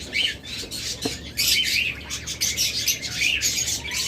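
A pair of blue-series pet parrots, offered for sale at a bird market, chirp and squawk in quick repeated bursts, close and fairly loud, with no talking.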